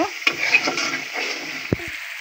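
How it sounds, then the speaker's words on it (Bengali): Spice masala is sautéed in a pan for fish curry, with a soft sizzle, light stirring scrapes and a couple of sharp utensil knocks near the end. "এবার ভালো করে মশলাটাকে কষিয়ে নেব।"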